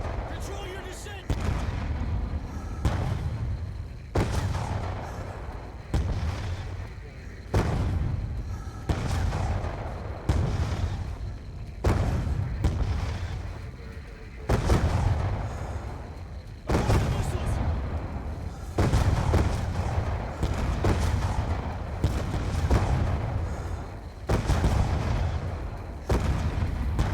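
Missile explosions and gunfire in Call of Duty Black Ops 2, a run of loud repeated booming blasts at irregular intervals, dense and continuous, with talking in the background.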